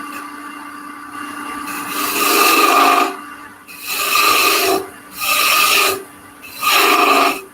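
A woodturning tool scoops out wood on a spinning lathe, giving four rasping, scraping passes of a few seconds each with quieter gaps between, close and fairly loud over a faint steady motor hum.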